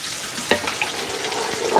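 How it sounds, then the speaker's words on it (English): Spoon stirring a crock pot meal of tomato and carrots, a few soft wet clinks and sloshy scrapes spread over a couple of seconds, close and moderately loud. "Let me stir it."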